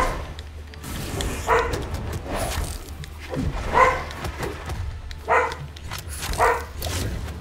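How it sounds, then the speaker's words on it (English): A dog barks repeatedly indoors, spaced barks of moderate loudness rising over a low background hum, with some faint talk mixed in. "Yes, we hear you, dog."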